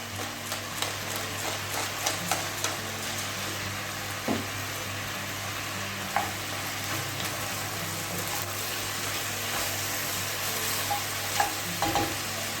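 A pot of beef bourguignon being stirred, with a steady, dense sizzle of frying meat broken by scraping spoon strokes and small clinks against the pot, close and continuous for the whole stretch with no talk.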